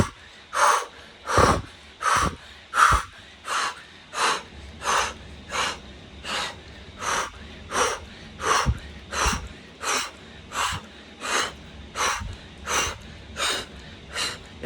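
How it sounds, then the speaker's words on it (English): Rapid rhythmic Wim Hof breathing from the diaphragm, about twenty forceful breath cycles with sharp inhales and exhales, steady and close, no talking. "Now I'm going to do a little Wim Hof breathing."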